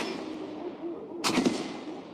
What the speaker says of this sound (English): the gunner is shooting out the window in front of me